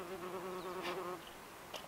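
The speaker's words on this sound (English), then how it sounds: "I was just saying about the wasps, they don't sting. They'll just check you out." Wasps buzz close by around people at a home building site, a steady droning hum that rises and dips as they fly past, with no talking.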